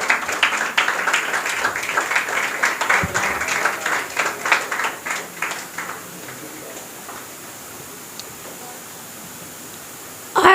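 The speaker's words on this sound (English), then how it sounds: "Clap for them." Audience clapping at a school confidence-building program, dense and loud at first, then thinning into scattered individual claps before fading to near silence.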